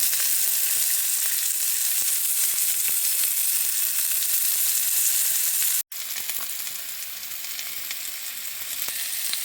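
Chicken sautéing for a Filipino coconut squash and string bean dish, a loud continuous sizzle with faint scattered ticks and one brief dropout partway through.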